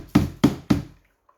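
An espresso portafilter from a VBM Domobar Super Electronic machine knocked out three times, loud close thumps in an even rhythm, then silence.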